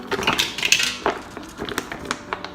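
Marinated mussels in garlic and shallot sauce tipped into a pan, their shells clinking and clattering against the metal in a quick irregular burst of sharp knocks that then trails off.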